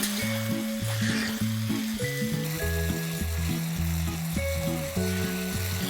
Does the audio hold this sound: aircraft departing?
no